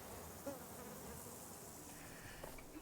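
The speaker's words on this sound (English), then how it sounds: "Look at these bees and the thistles." Bees buzzing among thistles outdoors, a steady faint hum that holds throughout with no talk over it.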